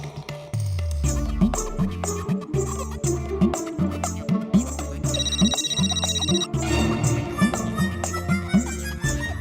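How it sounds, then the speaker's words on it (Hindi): A phone rings out on an outgoing call in a repeating electronic ringback pattern, steady pulses over a background music bed, with a brief higher tone near the end. "एक काम करता हूँ, डॉक्टर शारा मैडम को अभी फोन कर लेता हूँ।"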